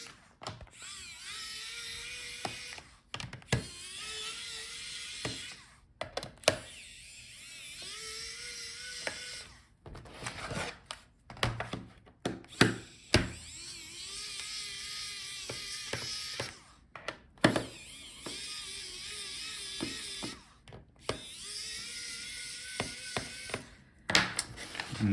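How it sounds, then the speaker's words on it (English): Bottom case screws being backed out of a Lenovo ThinkPad E14 Gen 4 laptop with a small driver, giving repeated short whirring bursts with clicky ratcheting gaps between screws, close and fairly quiet. "So start with bottom screws."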